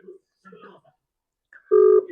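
A phone dialing a call: after a few quiet spoken words, a single short, steady keypad tone sounds near the end.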